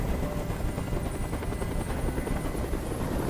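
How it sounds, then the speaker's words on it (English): Loud, continuous video game helicopter rotor thumping with a dense roaring engine wash, steady and close overhead, in Detroit: Become Human. "Tell that helicopter to get out of here."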